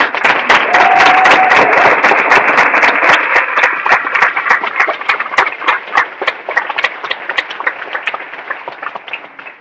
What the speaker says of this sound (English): So please give a round of applause to our board.